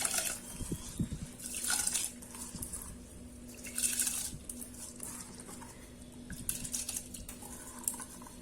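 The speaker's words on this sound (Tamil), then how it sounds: "இப்போ நம்ம கழுவி வச்சிருக்கிற இந்த அரிசி பருப்பை போட்டுடலாம்." Washed rice and black urad dal tipped into a pot of water, giving soft splashing and pattering bursts in a few quick pours with gentle liquid sounds between, heard alone at close range.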